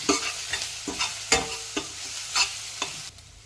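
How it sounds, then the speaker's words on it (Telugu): Ginger garlic paste fries in oil for a Godavari dried fish and brinjal curry, with a close sizzle broken by repeated sharp scrapes and taps of a spoon against the pan, then the sound drops away. "పచ్చివాసన పోయేంత వరకు అల్లం వెల్లుల్లి పేస్ట్ని కాసేపు నూనెలో వేగనిద్దాము"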